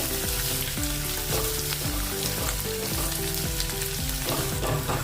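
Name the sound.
onions frying in pan for lobia curry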